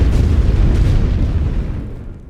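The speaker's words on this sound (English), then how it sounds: "Immediately, heavy siege artillery." Heavy siege artillery pounds the lines in the World War One strategy game The Great War: Western Front, a loud, dense, continuous roar of blasts that rolls away into a fading rumble, with no voices.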